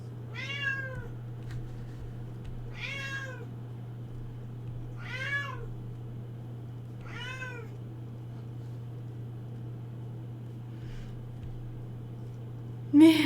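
A cat meows four times at a steady spaced rhythm, each call clear and fairly close over a low steady hum, with quiet room noise between calls and no speech.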